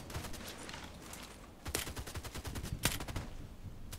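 Video-game gunfire in a sniper match, with rapid bursts of shots alongside two sharp, louder cracks that stand out from a steady, busy battle background.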